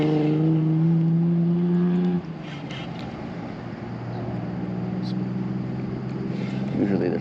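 Cars passing on a nearby road beside a fishing spot, heard as a steady low traffic rumble and hiss that swells near the end, with a louder engine hum early on.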